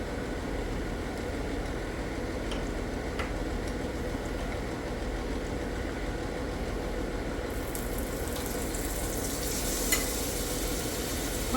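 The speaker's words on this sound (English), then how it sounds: "Put this on low flame now. And then we are going to add some butter to it." Butter and a little oil sizzling in a pan over a low flame for Marry Me Chicken, a faint, even, continuous crackle holding steady throughout with no speech.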